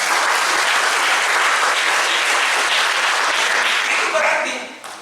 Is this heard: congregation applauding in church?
yes